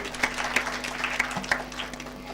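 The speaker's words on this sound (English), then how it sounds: "Round of applause." Scattered audience applause at a children's climate summit, light uneven claps at moderate level with a steady low hum in the background.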